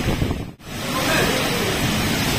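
A strong wind and rain storm sweeps through trees in an Odia village, among the first such storms of the year: a loud, steady roaring rush that dips for a moment, then surges back and holds.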